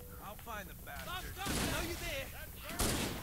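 Gunfire in the video game Halo 1, heard as two loud broadband bursts over continuous voices and sung tones, with talk running through.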